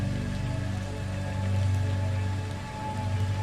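Steady, gentle rain falls continuously with a soft hiss and patter of drops on a surface, an even wash of sound with a low rumbling undertone and no voices.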